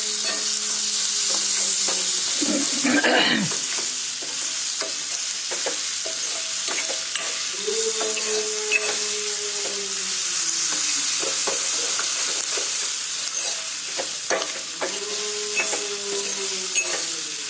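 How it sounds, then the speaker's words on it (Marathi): Chopped onions with salt sizzle and fry steadily in a pan, loud and close, with repeated scraping stirs cutting through the hiss; no talking. "मीठ टाकल्यानंतर आणि लवकर भाजते"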